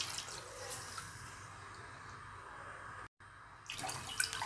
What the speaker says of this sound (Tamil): 2 கப்பு தண்ணி ஊற்றிக்கலாம்.